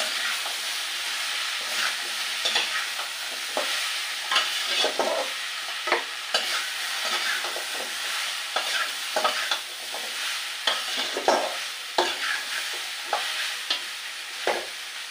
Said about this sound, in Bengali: এবারে দিয়ে এইভাবে আস্তে আস্তে নাড়াচাড়া দিয়ে কষিয়ে দিতে হবে।